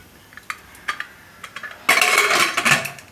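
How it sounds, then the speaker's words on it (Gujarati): A pressure cooker lid clinks and scrapes shut, with a few sharp metallic taps followed by a louder rattling clatter of metal against the pot. "અને કુકરનું ઢાંકણું બંધ કરી દઈશું."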